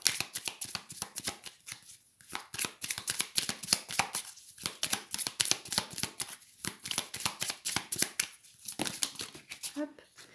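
Tarot cards shuffled close by in quick, rhythmic riffles, sharp papery flicks in bursts separated by short pauses, with no talk over them.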